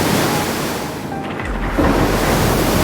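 Stormy open-sea waves surge and crash in a continuous loud roar mid-ocean, with gusty wind buffeting throughout and a heavier wash swelling up toward the end.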